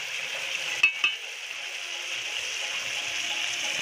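Marinated meat frying in a pan for biryani, a steady broad sizzle running throughout with two brief clinks or stirs near the start, close and moderately quiet, no talking.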